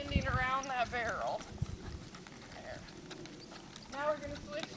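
A horse trots in a circle around a barrel during a training drill, its hoofbeats soft and rhythmic under a trainer's steady spoken instructions.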